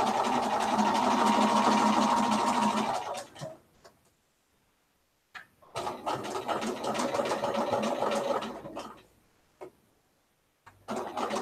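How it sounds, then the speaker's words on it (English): A sewing machine stitches along a marked line while piecing 5-inch quilting charm squares, running in two steady bursts of several seconds each with a quiet pause between them and a brief restart at the end. "And then you sew right on the line."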